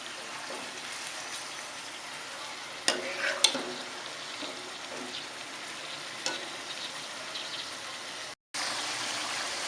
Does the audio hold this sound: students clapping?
no